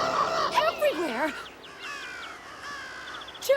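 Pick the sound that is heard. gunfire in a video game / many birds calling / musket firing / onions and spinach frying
many birds calling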